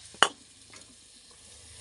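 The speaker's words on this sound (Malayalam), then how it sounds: "നമ്മളെ താളിച്ചത് ഇതിലേക്ക് അങ്ങോട്ട് ഒഴിച്ചു കൊടുക്കാം" A hot coconut oil and ghee tempering is poured into a mango curry, giving one sharp, brief sizzle burst that quickly fades to a faint crackle in a quiet kitchen.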